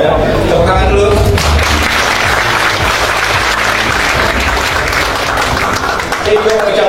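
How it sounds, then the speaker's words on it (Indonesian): Dense, sustained audience applause fills a university event for about seven seconds, with a voice briefly audible at the start and end. "tepuk tangan dulu"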